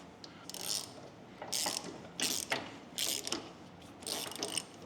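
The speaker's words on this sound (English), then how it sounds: "If you have a 25mm socket, you can use this to screw that the rest of the way on." A ratchet wrench with a 25mm socket turns a John Deere easy-change oil filter nipple, giving five separate bursts of rapid pawl clicking at close range in a quiet space, without speech.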